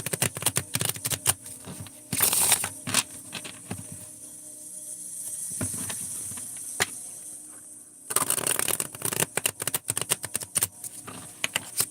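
Tarot cards are shuffled by hand in two bursts of rapid papery riffling and clicking, with a quieter stretch of light handling between them and no talking.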